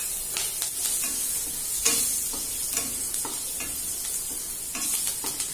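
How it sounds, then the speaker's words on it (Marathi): Crushed garlic and chopped green chillies fry in oil on low heat for poha chivda, giving a continuous close sizzle with scattered stirring scrapes and ticks, no voices. "आता हे छान तेलावर फ्राय करून घ्यायचं अगदी कडक होईपर्यंत"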